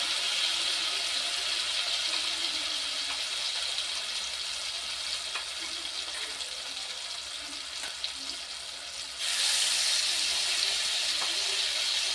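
Water from a rinsed mixer jar goes into a pan of cooking tomato and spice paste for a vegetarian paneer dish. Steady frying sizzle carries on with scattered clicks, then a sudden louder rush of hissing near the end.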